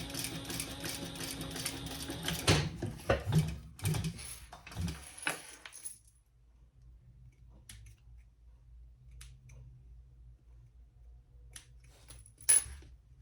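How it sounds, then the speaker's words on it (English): Scissors snip off excess black material while a crossbody bag is being sewn, a short run of close, crisp metallic cuts and handling clicks followed by quiet with a few faint taps. "And then I'll cut off the excess behind that."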